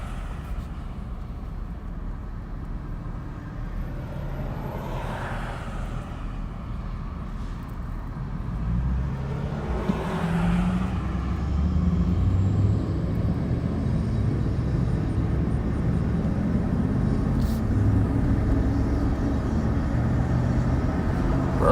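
A black Jeep driving on roads near the Smokies outside Knoxville, Tennessee: a continuous low engine and tire rumble from inside the vehicle, steady throughout with a few faint passing swells and no talking.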